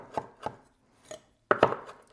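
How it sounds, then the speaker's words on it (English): Knife chopping fresh parsley on a cutting board: a few spaced single chops followed by a quicker cluster of two or three, crisp and close. "we're going to take a little bit of fresh parsley and put in this. Just kind of chop it up"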